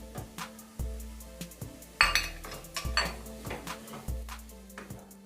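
A utensil scrapes and clinks against a pan while stirring cabbage roll stuffing with potato and pepper, steady metallic taps and scrapes in an uneven rhythm, close and fairly quiet with no voices.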